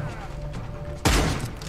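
A single loud, sudden gunshot in the video game Redeemer cuts through low, steady game ambience and leaves a brief fading tail.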